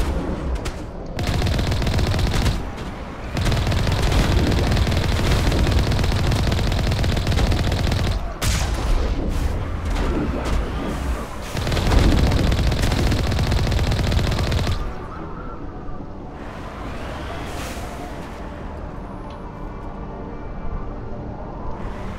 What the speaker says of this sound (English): We're gonna be shot at. We will shoot back.